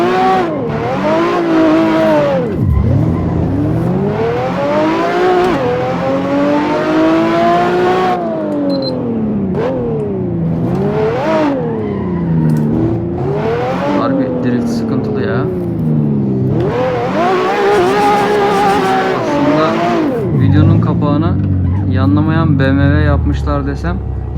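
BMW 520i in Assetto Corsa, engine revving up and down in repeated sweeps with tire squeal while drifting, loud and close throughout, with a voice talking over it.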